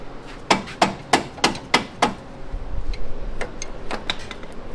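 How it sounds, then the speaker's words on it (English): A hammer taps a buggy's body six times in a steady, evenly spaced series, each knock sharp and close, searching for a rattle; a low rumble and faint scattered ticks follow after the tapping stops. "I'm touching with my hammer."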